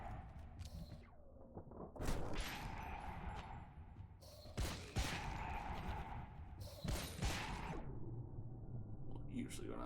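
Gunfire in the game El Paso, Elsewhere: a few loud, sharp shots around two, five and seven seconds, each with a ringing tail, over a busy game soundscape with someone talking in between.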